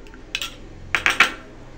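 Mixed vegetable salad being tossed in a bowl, giving a few short scraping clinks of a utensil against the bowl, in two brief bursts against a quiet background.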